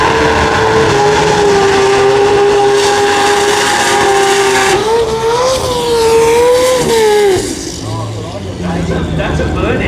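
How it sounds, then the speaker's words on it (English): A car does a burnout at the Garrett Brisbane Jamboree, a loud, high screaming engine whine with shrieking tire squeal held for several seconds before the revs drop; voices talk over the noise. "that's a burnout"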